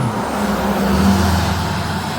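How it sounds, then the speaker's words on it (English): Pickup trucks driving past on a country road near flooded Blue River lakes in southern Indiana, a steady close engine and tire rumble that swells slightly and holds through the short clip, with no talk. "Got the country boys going by in their trucks."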